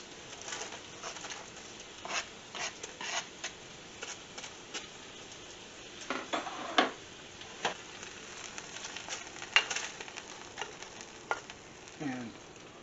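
Onions and garlic sizzling in a pan as a soft, continuous frying hiss, with scattered sharp clicks and scrapes of stirring, heard close up but quiet, and no talking.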